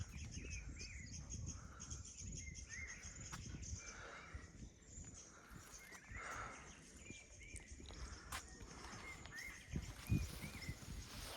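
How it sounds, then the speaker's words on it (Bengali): Birds chirping in the hills around a village homestay, repeated short calls scattered across the scene over a steady outdoor background, with occasional hoof-like clops and footsteps nearby. "চারিদিকে পাখির আওয়াজ।"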